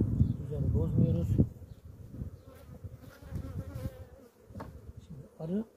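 Honey bees buzz around an opened hive during beekeeping work, a close, steady insect drone with handling noises, while someone talks over it.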